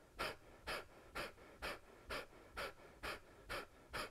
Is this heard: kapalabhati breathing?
yes